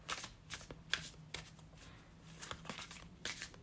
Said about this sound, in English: start shuffling with intention